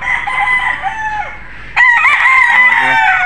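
A street breed golden boy rooster crows loudly and close, first one long call that trails off, then a second strident crow after a short pause, with a faint cluck mixed in.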